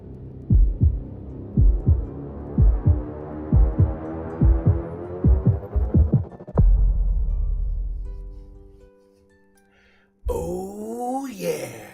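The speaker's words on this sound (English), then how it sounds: "with this heartbeat." A heartbeat sound effect plays as steady, evenly spaced thumps for about six seconds, followed by a low droning rumble that fades away. A voice speaks briefly near the end.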